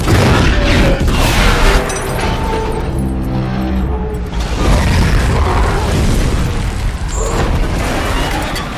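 A loud, deep explosion in a film rumbles and roars, followed by sustained crashing and booming debris, dense and overwhelming throughout.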